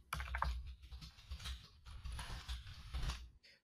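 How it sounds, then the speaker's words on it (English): Typing on a computer keyboard, close and crisp, with a quick irregular run of clicking keystrokes for a few seconds and no talking. "And we're going to type in."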